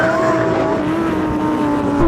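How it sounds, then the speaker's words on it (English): A Lamborghini Huracan STO, Ferrari 488 Pista and Porsche GT3 launch together in a drag race, engines roaring loud and close with rising harmonic tones as the tires spin, sustained without any talking. "Oh, fine wheel spin there."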